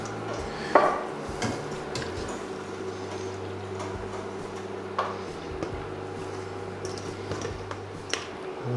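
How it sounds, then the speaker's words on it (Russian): Fish broth with vegetables being strained through a sieve in a kitchen, with scattered clinks of a utensil against a pot, soft liquid squishes and occasional metallic taps over a quiet steady hum. "Сейчас уберем с него все овощи и рыбу и процедим его через сито."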